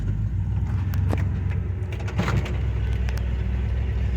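A 1978 Chevy C10 pickup idles steadily just after a cold start, a low continuous engine rumble with a few faint clicks and knocks on top.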